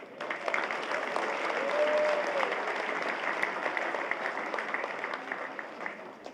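A large graduation crowd at the Philippine Military Academy commencement in Baguio City claps steadily and loudly for several seconds, a dense wash of applause with no pauses.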